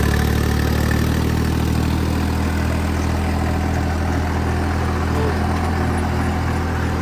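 Tractor engine, a Swaraj 3630 pulling a rotavator in third gear through wet field soil, droning loudly and steadily with a low throbbing rumble close by and no pause throughout.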